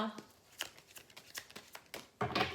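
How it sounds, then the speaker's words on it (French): Tarot cards being shuffled and drawn, with soft papery flicks and riffles at an irregular pace under a woman's nearby speech, ending in a brief louder shuffle. "je vais tirer 3 cartes"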